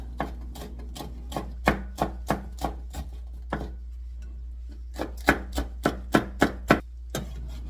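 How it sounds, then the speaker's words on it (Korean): A knife slices a red chili pepper on a cutting board in a steady run of crisp, close taps, pausing briefly midway before a faster burst, over a low constant hum. "홍고추 하나 송송송 썰었습니다."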